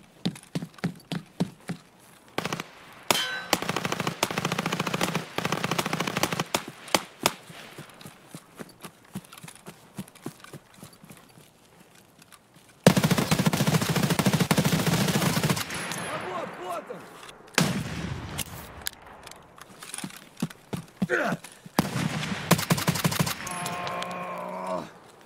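Bursts of gunfire in Escape From Tarkov, clattering shots in uneven clusters with gaps between, fairly quiet overall and mixed with other game noise and occasional talk.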